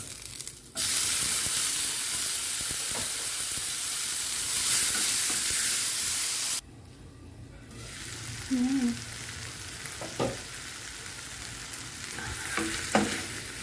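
Tomatoes dropped into hot frying oil give a loud, dense sizzle that drops suddenly halfway, then softer crackling returns with a few clinks of a utensil stirring the pan.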